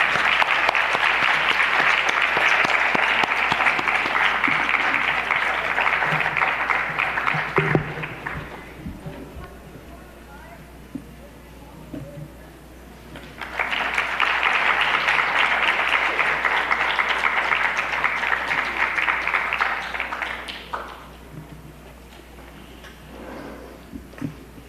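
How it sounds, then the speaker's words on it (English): Two long bursts of audience applause at a dance recital, dense steady clapping that fades out each time, separated by a quieter stretch with faint murmuring. "Let us honor and applaud Vidushi Pustakam Rama."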